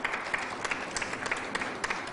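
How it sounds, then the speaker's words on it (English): An audience applauds a brass ensemble at a Monroe County bicentennial event, giving a brief, dense patter of many hands clapping at a moderate distance. "let's everybody give a big round of applause to the RPO Brass Ensemble"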